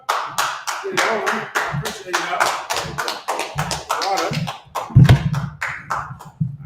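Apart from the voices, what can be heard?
audience clapping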